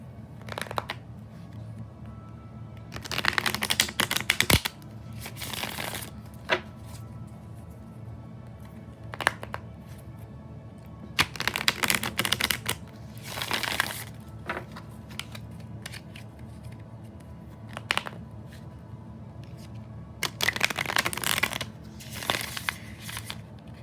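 Tarot cards are shuffled by hand in repeated riffling bursts, each a few seconds long, separated by quieter pauses with light handling noise, close and soft.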